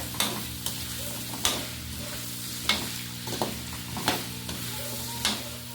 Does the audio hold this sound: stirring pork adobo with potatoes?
yes